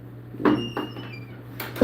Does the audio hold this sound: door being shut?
yes